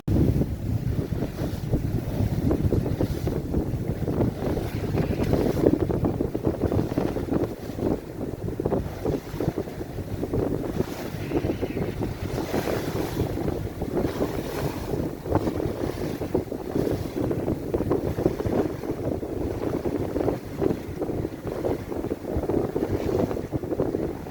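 A sailboat runs under full sail with everything out and the engine ticking over, giving a steady, loud wash of wind buffeting the microphone over water and hull rush, continuous throughout with no talk.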